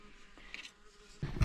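A fly buzzing close around someone at the Tin Mines campground in Woomargama National Park, a faint wavering hum that swells loud and near in the last moments as it passes by.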